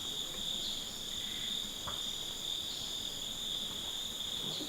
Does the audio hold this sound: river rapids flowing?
no